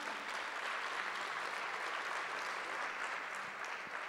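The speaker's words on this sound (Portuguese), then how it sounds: "Pode dar uma salva de palmas?" A church congregation applauds at an evening service, a steady dense wash of clapping at even loudness, with no talk over it.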